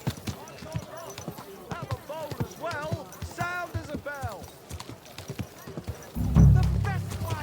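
A horse clip-clopping and whinnying in the video game Kingdom Come Deliverance 2, rhythmic hoof beats with a clear neigh partway through and a heavy thud near the end, while someone talks over it.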